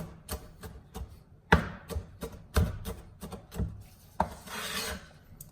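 Cooked meat being chopped into small pieces for tacos: irregular knife strikes and scraping strokes against a board, close and moderately loud, with no speech.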